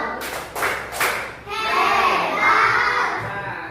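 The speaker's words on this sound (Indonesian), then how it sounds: "silakan berikan tepuk jempol dulu kepada kelompok 3. Jempol kiri, tepuk jempol." Schoolchildren in a classroom give a group of classmates a round of thumb clapping, a brisk clatter of small hands that gives way to a noisy swell of children's voices and shouting.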